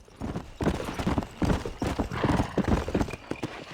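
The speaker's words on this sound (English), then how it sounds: "Deixa eu pegar nosso cavalo, né, velho?" Horse hooves clip-clop in a steady trotting rhythm in Red Dead Redemption on PC, close and prominent, with a brief whinny among the beats.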